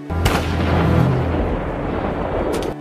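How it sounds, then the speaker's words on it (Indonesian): A gunshot in a Western film scene about cowboys and the last Indian tribe, a loud boom followed by a long rumbling roar that fades slowly, with no speech. "dia pura-pura menembak Rebecca padahal menyuruhnya untuk berlari"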